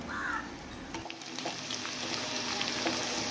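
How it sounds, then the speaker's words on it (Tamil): Marinated chicken pakoda fries in hot oil with a steady, faint sizzle and crackle, alone with no talking, and a few faint bird calls in the background. "இப்போ நான் மேரினேட் பண்ணி வச்சிருந்த சிக்கன் எடுத்து பொரிக்கிறதுக்கு ஆரம்பிச்சிட்டேன்"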